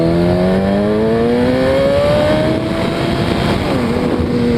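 Motorcycle engine running in first gear, its harmonic drone rising steadily in pitch as it accelerates, then dropping sharply near the end as the rider shifts; a loud, close, continuous roar with wind noise and no talking.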